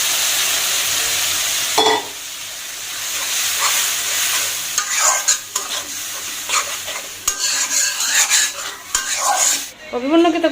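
Food being stirred and fried in a large pan (kadai) in a home kitchen, continuous loud sizzling with repeated scraping and clinking of a spatula against the metal, close up.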